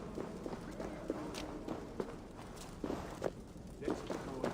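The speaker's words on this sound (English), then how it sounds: "Footsteps." Footsteps in the Viking-era game Assassin's Creed Valhalla, a quick series of faint, rhythmic thuds like someone approaching at a brisk pace, heard under background ambience and speech.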